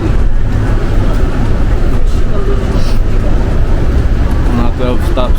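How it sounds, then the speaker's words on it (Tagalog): Ride inside a moving city bus in downtown Calgary, with a loud steady engine and road rumble throughout and people talking close by over it. "nakasakay na kami ng bus."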